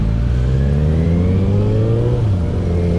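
A Kawasaki Z800 motorcycle engine hums steadily while riding in everyday use. Its pitch climbs slowly, then drops back near the end, close and loud throughout.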